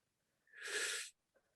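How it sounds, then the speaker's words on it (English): A patient takes a single slow, deep breath in over a phone line, heard as a loud, airy rush lasting about half a second that then stops, followed by a faint click. "And then now take a nice, slow, deep breath in."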